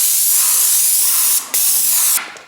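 A paint sprayer sends undercoat onto indoor skirting boards with a loud, steady hiss, broken by one brief pause and trailing off at the end, no voices.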